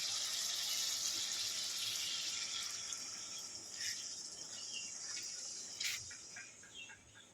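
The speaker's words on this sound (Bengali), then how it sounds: "ভালো করে আলুগুলো কষে নিয়েছি এবারে জল দিয়ে দিই" Water poured from a container onto fried potatoes in a pan for rui fish curry, a faint steady hiss and trickle that tapers off toward the end, with no voices.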